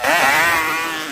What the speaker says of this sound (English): another rip on this ultra, ultra fast two-stroke Yamaha Banshee